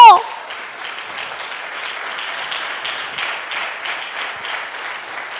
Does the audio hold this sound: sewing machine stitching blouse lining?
no